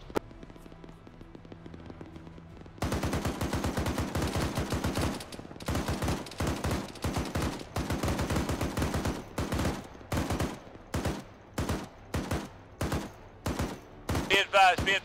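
Gunfire in a firefight during a motorized military patrol, sudden loud bursts of rapid shots that start after a quiet moment, then break into spaced volleys and single cracks, close and harsh.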